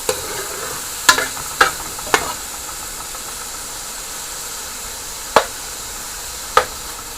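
Shrimp frying in a pan for a bitter melon stuffing, a steady soft sizzle with a few sharp clicks and pops scattered through.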